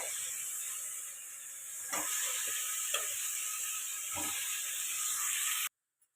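Chicken added to ginger-garlic paste in a hot pan gives a steady, bright sizzle and hiss with a few stirring clatters, cutting off abruptly near the end.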